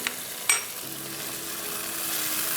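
Ginger frying in a pan for a chicken cashew handi, a steady soft sizzle after a sharp clink of a utensil near the start, with a faint low hum running beneath and no talking.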